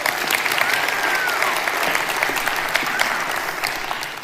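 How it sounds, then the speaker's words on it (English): A crowd at a live public talk on body language applauds steadily and densely from start to finish, with close, continuous clapping and no break. "Give her a round of applause."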